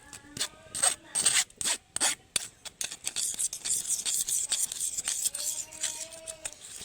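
A spoon stirs and presses tomato pulp through a strainer, making close, repeated wet scraping strokes in an uneven rhythm with brief pauses between them.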